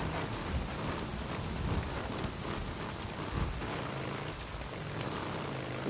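Heavy rain in the Days Gone video game, a dense, constant downpour hiss with low rumbling that suggests thunder beneath it, steady throughout with no speech.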